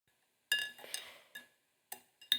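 A spoon clinks against a drinking glass while salt is stirred into water, giving a handful of separate bright taps and scrapes spread over a couple of seconds. The sounds are close and fairly quiet in an otherwise silent room.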